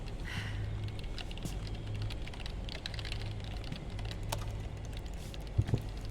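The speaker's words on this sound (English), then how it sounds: "Casually typing on multiple keyboards." Rapid keystrokes on multiple computer keyboards in the video game Metal Gear, a quiet continuous patter of typing close by, alone over a low steady hum.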